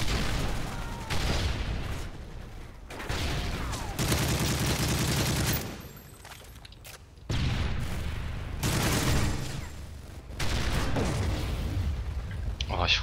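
Bursts of gunfire in the video game Modern Warfare 3 multiplayer, loud repeated volleys in several rapid stretches separated by short lulls, with a voice talking over the shooting.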